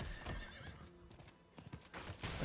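A mounted horse clip-clops through town in the video game Diablo 4, with quick rhythmic hoofbeats mixed with a snorting neigh over a busy, loud game soundscape.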